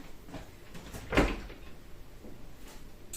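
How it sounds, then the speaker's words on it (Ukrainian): A single short knock of a cupboard door being opened or closed in a home kitchen, near and fairly clear against quiet room noise with faint handling sounds around it. "оця дверка була, поламалася, то Артем справив"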